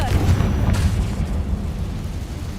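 Confringo blasting spell going off in Hogwarts Legacy, a dense rumbling boom that swells at the start and rolls on steadily for a couple of seconds with low-end crackle.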